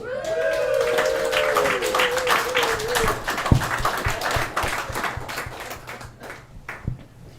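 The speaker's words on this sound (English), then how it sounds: "Give a round of applause to Bernadette." A comedy club audience at an open mic night claps for a comedian coming to the stage, sustained clapping with a few louder hand hits, a descending whistle-like tone over the first few seconds.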